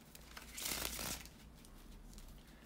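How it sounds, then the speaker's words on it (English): A brief burst of papery riffling and crinkling as tarot cards are shuffled by hand, close up, then quieter rustling fading into a low room hum. "to shuffle the tarot cards"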